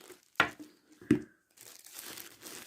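Plastic bag holding a smartwatch is pulled from its foam-padded box and opened, with two sharp crinkles followed by softer rustling close by.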